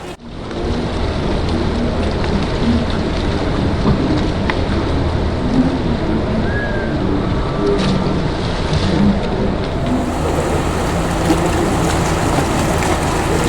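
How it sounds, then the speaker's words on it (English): Zodiac inflatable boat motoring across open water in the Galapagos toward an expedition ship, a loud steady engine drone mixed with rushing water and wind noise, continuous throughout. "So we were helped into the Zodiacs to sail out to the ship"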